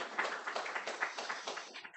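A church congregation applauding in thanks during a Korean Wednesday evening service, a dense, even patter of many hands clapping, moderately loud and steady for two seconds.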